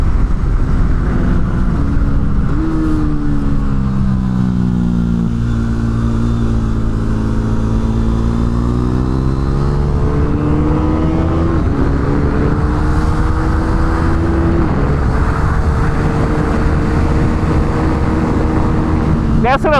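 A KTM RC390 motorcycle laps a race track, its engine droning steadily with rising and falling pitch through gear changes, heard from onboard under continuous wind noise.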